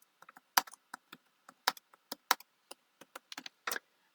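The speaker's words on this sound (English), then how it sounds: "I'm going to type in the Let's Soar in 2024" Keys clatter on a computer keyboard in an irregular run of crisp, close taps with short pauses, as a heading is typed into a Canva social media graphic; no one speaks.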